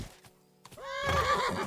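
A horse neighs in Kingdom Come Deliverance II, a loud, rising whinny that swells and holds near the end after a few soft hoof and movement sounds.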